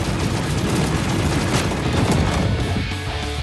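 A meteor attack in the Roblox game Blox Fruits pounds as a rapid, dense barrage of impacts and crashes, loud and sustained across the whole short burst.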